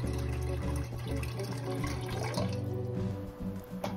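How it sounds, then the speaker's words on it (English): Water poured into a large cooking pot while preparing pork belly, a steady gushing and splashing stream that changes pitch as the pot fills, close and alone. "Pour the water into a large enough pot."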